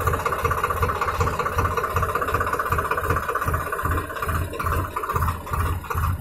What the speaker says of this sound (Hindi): ये धीरे धीरे क्लच छोड़ दिए, ये ट्रैक्टर अपना चलने लगा दो नंबर पे